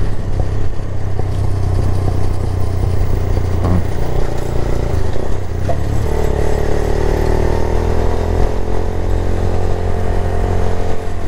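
A Daelim Daystar 125 cruiser motorcycle's 125 cc engine idles steadily up close, a loud continuous low burble with a slight rise in pitch partway through.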